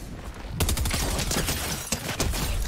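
A combat SMG fires in a video game, a continuous, dense burst of rapid automatic gunfire that stays loud for over two seconds with a brief stutter partway through, with no talk over it.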